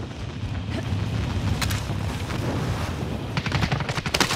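Rapid bursts of automatic gunfire from a firefight in Call of Duty: Modern Warfare crackle almost nonstop, with sharper shots near the end over low game rumble.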